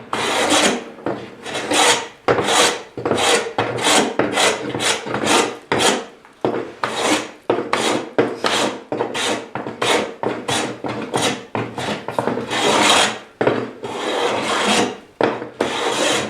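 A scrub plane takes rough passes across a wooden board. Around twenty rasping strokes come in an irregular rhythm, loud and close with short pauses between them, and nobody speaks.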